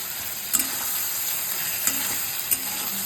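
Curry stir-fries in a pan with a soft, steady sizzle, broken by three brief scrapes or clinks of a utensil, heard close and fairly quiet with no talking.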